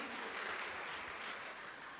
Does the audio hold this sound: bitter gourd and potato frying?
no